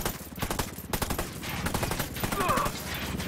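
Rapid bursts of automatic gunfire aimed at an enemy helicopter in the Ghost Recon Wildlands video game, loud and continuous with dense repeated shots, under a little talk.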